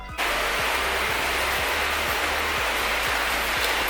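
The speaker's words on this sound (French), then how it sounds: "Je sais pas si vous entendez le bruit de la pluie" Heavy rain falling outside, a loud constant hiss of downpour with faint regular low thumps underneath, no talking.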